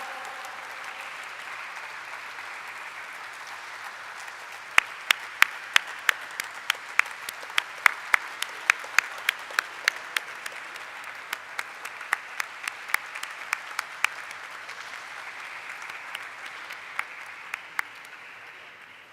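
Steady audience applause at the listing ceremony for Eureka Forbes Limited: a soft wash of many hands with sharper individual claps popping out near the front, sustained for a long stretch before gradually thinning.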